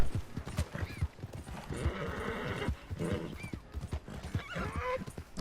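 Hooves clip-clop in a quick rhythm while a horse whinnies several times, mixed with game-style effects from Red Dead Redemption 2 and a voice talking over parts of it.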